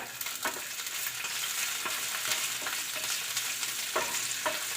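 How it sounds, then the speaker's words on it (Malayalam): Cashews and raisins frying in ghee: a continuous soft sizzle with a few brief spoon scrapes and taps as they are stirred, close and fairly quiet, no voices. "നല്ലതുപോലെ ഇളക്കി കൊടുക്കുക. മുന്തിരി അണ്ടിപ്പരിപ്പൊക്കെ നല്ലതുപോലെ മൂത്ത് വന്നിട്ടുണ്ട്."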